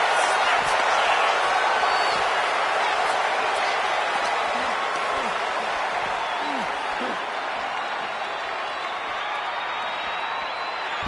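A dense arena crowd roars and cheers continuously in the WWE 2K26 video game, loud and sustained throughout with scattered whoops, while a commentator's voice talks over it.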